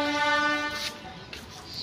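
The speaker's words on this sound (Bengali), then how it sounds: "ট্রেন ফ্রেন যাওয়া আসা করে।" A train near railway quarters gives a sustained, fairly faint horn-like tone that fades after about a second, leaving low rumbling background.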